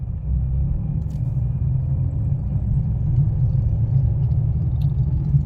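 A car driving on a road during a beginner driving lesson gives a steady, loud, low engine rumble with constant road noise and no talking.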